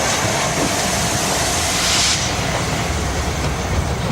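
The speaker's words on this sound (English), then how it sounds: "we see 4468 crossing the River Nid on the Harrogate Circle line" Steam locomotive 4468 Mallard crosses the River Nid on the Harrogate Circle line at Knaresborough, a loud, continuous rushing roar with a brief hissing burst of steam in the middle.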